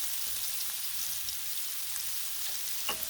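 Bacon sizzles on a Blackstone griddle in a steady, dense crackling hiss like light rain, with a small knock near the end.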